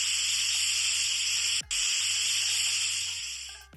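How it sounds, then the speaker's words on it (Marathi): Pressure cooker on a stove, cooking rice kheer, hissing steam in a loud continuous high rush that briefly cuts out and returns, then a low rumble near the end, with no talk. "कुकरचं झाकण आपल्याला बंद करायचंय आणि आता याच्या आपल्याला फक्त 2 शिट्ट्या करून घ्यायच्या"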